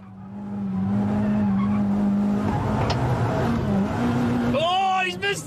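Race cars on installation laps skid and squeal their tires, with a loud steady engine drone and rising tire screech near the end, under an announcer's voice.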